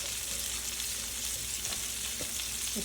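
Pork chops sear in a hot pan with a loud, dense, continuous sizzle heard close up, marked by a couple of faint taps and no talking.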